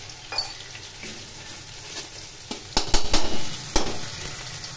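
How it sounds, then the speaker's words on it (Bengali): Small fish (bacha) frying in oil in a pan: a continuous sizzle close by, broken by a few sharp metallic clanks and scrapes of a utensil against the pan, with no speech. "মাছ ভাজা আমার হয়ে গেছে, এগুলো আমি তুলে নিলাম।"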